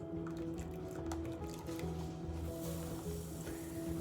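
Vinegar water is poured slowly into milk to curdle it into chhena for rasmalai, a soft continuous trickle and splash of liquid over a faint steady background hum.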